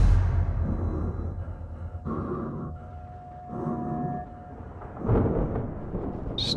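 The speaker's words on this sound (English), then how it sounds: "Still thunder going on," Video game thunder in Space Engineers during a survival storm: a deep, rolling rumble that swells and fades in several waves, with a sharper crack-like surge near the end, heard alone without talk.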